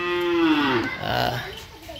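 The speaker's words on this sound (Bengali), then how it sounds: "এখানে বেশ কিছু গরু সংগ্রহ করেছে আবার ইউনিস চাচা।" A cow gives a single loud, close moo at a rural cattle-trading yard in Dinajpur, Bangladesh, the low drawn-out call fading over about a second amid faint background voices.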